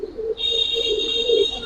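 Female Giribaz pigeon, a fancy flying breed, cooing in steady low pulses while held up for display, accompanied by a constant high-pitched whine.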